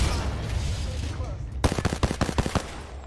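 A rapid burst of about eight sharp automatic gunshots erupts in ranked Apex Legends Season 12 play, loud and close, following a second and a half of quiet game ambience.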